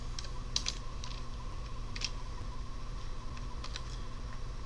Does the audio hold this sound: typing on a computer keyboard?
yes